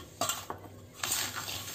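A spoon scrapes and clinks around a bowl while flour, sugar and boiled, cooled milk are mixed for rice flour laddu, with three sharp clatters over a steady soft stirring.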